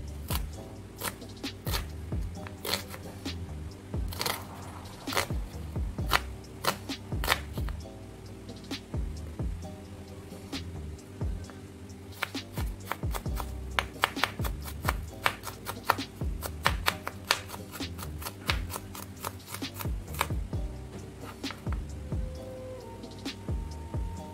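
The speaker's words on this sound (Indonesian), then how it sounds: "sekarang kita mau ngiris bawang bombay. Cincang ini ya, halus-halus." A knife finely chops an onion on a cutting board for a chicken steak, making steady rapid taps close up with small irregular pauses, no talk.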